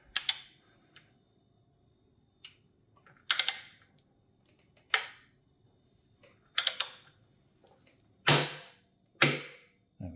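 Tightening a BBSHD mid-drive motor mount on a fatbike to 90 foot-pounds: a series of six sharp ratcheting clicks and creaks spaced about 1.5 seconds apart, close and fairly loud, with no talking.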